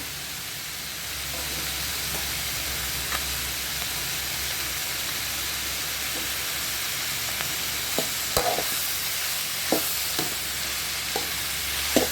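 Garlic sizzles and fries steadily with chopped banana stem in a pan, a constant hissing crackle throughout, with a few faint stirring clicks of a spoon near the end.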